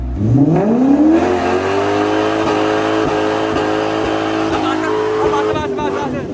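A K24-swapped Suzuki Cultus revs hard and holds a loud, sustained engine note during a tyre burnout on a track at night, rising in pitch at the start, with voices faintly underneath.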